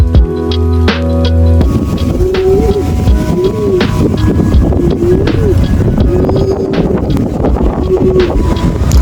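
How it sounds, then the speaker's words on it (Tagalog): Steady wind buffets the microphone at the Basac Over View mountain viewpoint in Siquijor, a continuous low rumble and gusting roar with faint voices and tonal sounds underneath. "Napaka-presko at mahangin pa."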